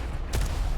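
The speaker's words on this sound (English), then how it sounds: "He's throwing these rockets down with 61 HP." A single rocket blast bursts out sharply at close range in the arena shooter Diabotical, standing out briefly against a steady low game rumble.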